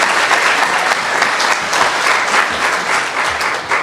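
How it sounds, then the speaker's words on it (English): An audience claps for Sharon Gerber at an art show gathering, dense sustained applause that stays loud throughout with slight swells. "Let's give a round of applause for Sharon Gerber."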